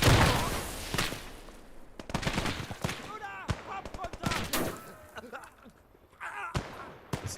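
Rapid bursts of gunfire from the World War II game Gates of Hell, sharp cracks and volleys scattered across the stretch, some close and loud, others farther off, mixed with game sounds and a voice talking.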